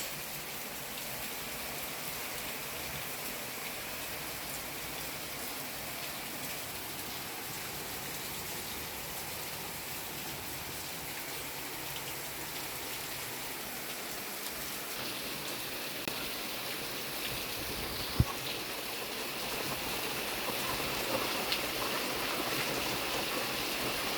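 Rain falls on a home balcony lined with potted plants, making a soft, steady, even patter and wash that holds throughout, with one brief tap near the end and no voices.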